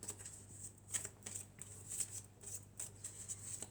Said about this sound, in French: on va prendre quelques cartes de l'oracle de la triade